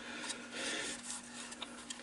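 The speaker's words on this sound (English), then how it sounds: "A little bit of sanding" Sandpaper rubs steadily against spinning green wood on a lathe, a soft, continuous raspy hiss with light rhythmic scratches, fairly quiet and close, with no speech.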